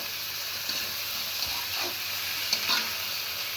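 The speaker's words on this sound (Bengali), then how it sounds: "মাছটা আমি একটু পরে দেব তো এটাকে আমি এখন ভালো করে কষিয়ে নেবো" Hilsa fish heads and bones frying in oil in a pan, a steady close sizzle with a few soft stirring scrapes and brief spatters, no voices.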